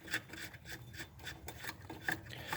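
Bolt on a 2009-2015 Nissan Maxima battery being turned counterclockwise with a hand tool, a close, repeated scraping rasp in short strokes with no talk.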